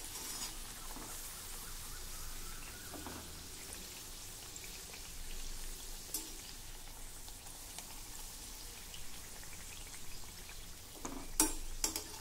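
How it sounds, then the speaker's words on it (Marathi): Puris deep-fry in oil over a very low flame, a faint, steady, rain-like bubbling crackle throughout, with a few sharper pops and clicks near the end. "एका वेळी तेलात सहज मावतील एवढ्या पुऱ्या घाला आणि गॅसची फ्लेम अगदी मंद ठेवा।"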